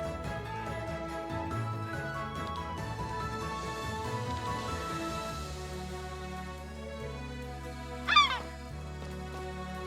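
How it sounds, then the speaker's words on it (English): A single loud, brief bird call rings out near the end in the fantasy RPG Chained Echoes, sharp and piercing over a steady background of game music. "That was a loud bird."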